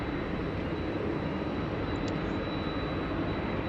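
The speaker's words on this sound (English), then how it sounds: "looks like the Tasman cargo there is coming across for a 16 right departure" A Tasman Cargo Boeing 767 rolls for departure on runway 16 right at Sydney Airport, giving a steady, broad jet roar heard from a distance with no talk over it.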